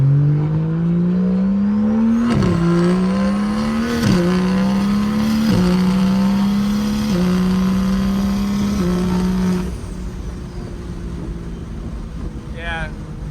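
A car with a straight pipe exhaust, in sport and manual mode, revs hard through several quick upshifts, each marked by a sudden pitch drop. The engine roars loud and close before the note falls away to a lower, quieter drone.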